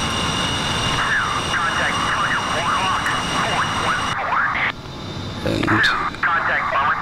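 A-10C jet in the DCS flight game rotating off the runway as gear and flaps retract; steady loud engine roar and whine persists throughout, with radio-like chatter and talk layered over it and a shift in tone partway through.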